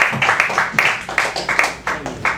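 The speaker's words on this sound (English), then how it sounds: "A big round of applause for Simon." An open mic comedy audience claps for a comedian, a dense, loud burst of handclaps with a rhythmic rise and fall that carries through the whole moment.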